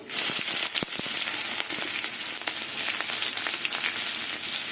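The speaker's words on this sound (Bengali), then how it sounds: "এই তেলের মধ্যে কালো জিরে ফোড়ন দিয়ে দেবো এবার কুচুনো পেঁয়াজ দিয়ে দেবো" Chopped onions and black cumin seeds sizzle steadily in hot oil for a small-fish curry, a close, loud and continuous frying hiss with scattered sharp pops and crackles, no voices.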